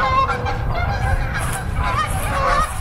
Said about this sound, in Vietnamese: Ra nhìn mấy ngỗng lần cuối này là nó bay kìa, nó bay kìa, bay kìa.